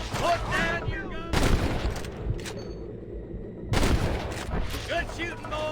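Gunfire in the Red Dead Redemption video game on PC, with dense bursts of shots in two loud clusters and a quieter gap between them, set under game music and voices.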